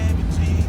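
A Dodge SRT car driving past at a car meet, a loud deep engine rumble filling a brief moment, close and steady.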